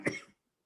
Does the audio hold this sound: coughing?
yes